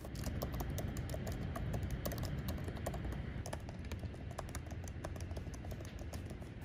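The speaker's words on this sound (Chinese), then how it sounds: "这里先给大家听一下两个键盘打字的声音哦" Rapid typing on a MacBook Air laptop keyboard, comparing the 2020 scissor-switch Magic Keyboard with the older butterfly keyboard: a dense, steady stream of light plastic key clicks, close and fairly quiet, with no talking.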